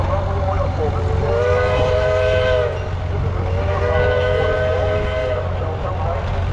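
A 1948 Rumely OilPull tractor rolls by in a thresheree parade, its low engine drone steady and loud beneath a pair of sustained whistle-like harmonic tones, with crowd noise in the background.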